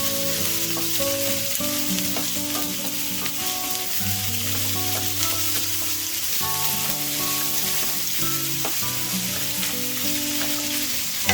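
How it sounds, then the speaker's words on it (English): Roughly chopped onion fries on a high flame for Chettinad chicken, a loud, steady sizzle that runs the whole time. Stirring scrapes and clinks sound throughout, and a background tone hums underneath. "Mix it and fry it until the onion becomes golden brown. Fry it on high flame. Keep mixing it."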